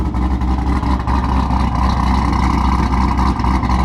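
A cammed C5 Corvette engine idles while warming up, a loud, steady, close-up rumble with a slightly lumpy, choppy rhythm running continuously.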